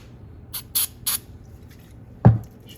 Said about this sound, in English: Just use regular carbon choke cleaner